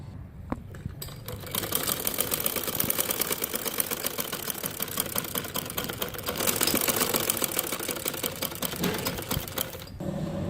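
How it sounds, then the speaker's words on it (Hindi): A sewing machine running a straight seam on men's shorts, a fast steady mechanical whirring with rhythmic needle clatter for several seconds, starting and stopping briefly at the ends. "अब मैं ये सीधी सिलाई करने लगी हूँ।"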